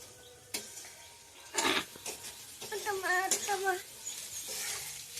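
Potatoes, onions and beans stir-fried in a pan for poha: quiet sizzling with scattered scrapes and clinks of a utensil against the pan, while someone talks over it.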